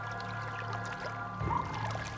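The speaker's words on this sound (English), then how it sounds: "The geysers of El Tatio form the largest geyser field in the southern hemisphere." Hot spring water at the El Tatio geyser field, 4,300 meters up in the Andes, pours and bubbles in a steady wash that swells with a gurgling surge past the midpoint, with no voices.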